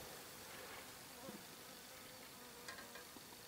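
Honeybees fly around an old clay log hive, a faint, continuous buzzing hum with brief louder passes as individual bees come near.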